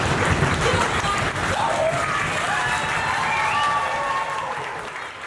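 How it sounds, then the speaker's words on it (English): An audience at a Level 1 dance showcase applauds in a sustained, full wash of clapping with a few whoops mixed in, easing off slightly toward the end. "Start low applause."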